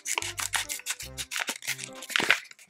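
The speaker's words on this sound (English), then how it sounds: "let's grab our scissors and we're gonna cut right here on the dotted line" Scissors snip through makeup packaging along a printed dotted line, several short crisp cuts in a quick rhythm, close and fairly quiet, with light rustling of the package between snips.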